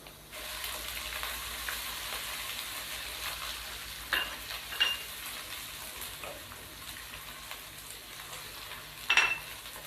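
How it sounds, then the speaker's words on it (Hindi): Ginger garlic paste sizzles steadily in a hot pan, with a few soft clinks of a spoon against the pan scattered through the frying. "अब हम इसके अंदर अदरक और लहसुन का पेस्ट शामिल कर देंगे।"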